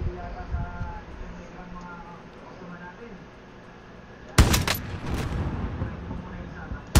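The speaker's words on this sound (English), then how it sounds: "Oh, someone's shooting me." A burst of rapid gunfire erupts partway through a Call of Duty match, loud sharp cracks following quieter in-game ambience, with a player's voice talking over it.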